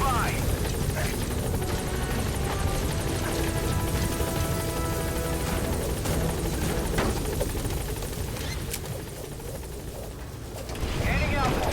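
Helicopter in Metal Gear Solid V arriving at a landing zone, its loud steady rotor drone filling the whole span with a brief dip in level near the end, with radio-style voice lines over it.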